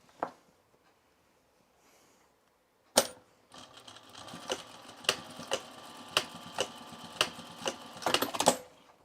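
Sewing machine stitching a bar tack on Mitchell trousers: quiet at first, then a sudden start into steady whirring punctuated by regular sharp needle clicks, close and fairly soft.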